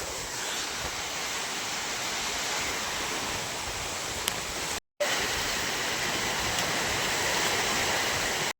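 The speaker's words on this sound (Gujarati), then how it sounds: "સાટા આવી ગયા તમે ખાલી અવાજ સાંભળો." Heavy rain pours down in a steady, dense roar close by, a continuous broadband wash with no voices, cut by a brief silent gap midway before the downpour resumes at the same level.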